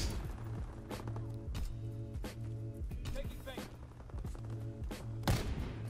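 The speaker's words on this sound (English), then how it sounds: "I just shoot too early." Gunfire from a powerful sniper rifle, the PTRS 41, in a Call of Duty match on the Shipment map, heard as several sharp shots and impacts over busy game noise and a low repeating background hum.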